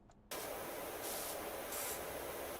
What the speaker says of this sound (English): time to spray with Meadow.